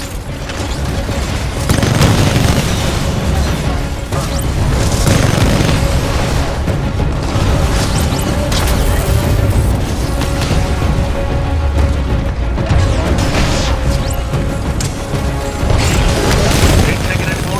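A Titan's Salvo Core missile barrage in Titanfall 2, heavy booming explosions hitting one after another in loud bursts over a rumbling mechanical bed, with voice lines heard throughout.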